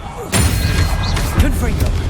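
Expelliarmus disarming spell cast in the Hogwarts Legacy video game: a sudden whooshing burst with a dull thump, followed by shimmering magical swishes and smaller impacts over steady game ambience.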